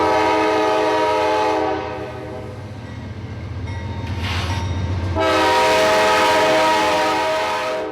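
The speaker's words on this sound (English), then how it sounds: "This northbound is departing Norfolk Southern's Nixon Yard in Augusta and headed for Columbia" A Norfolk Southern northbound freight departing Nixon Yard in Augusta on shared street trackage sounds a loud, close air horn in long blasts, with a brief dip between them and the rumble of the locomotive and cars beneath.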